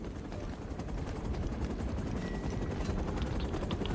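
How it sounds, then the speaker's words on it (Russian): A helicopter in the Uncharted: Drake's Fortune video game, a steady rotor thrum mixed with gunfire and dense battle noise, with no talking. "Вертушка там."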